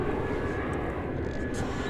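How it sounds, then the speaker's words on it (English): American Eagle airliner arriving at Dallas Fort Worth airport, a steady, loud jet engine roar filling the whole stretch without a break. "We've got a American Eagle flight arriving from Aguas Calientes in Mexico."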